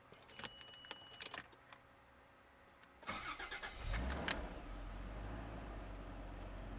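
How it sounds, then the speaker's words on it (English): Keys jangle in a car's ignition, then the engine cranks and catches about halfway through, settling into a steady close idle during a fuel pump check. "we are ready to turn on the vehicle to see if we get power to the fuel pump"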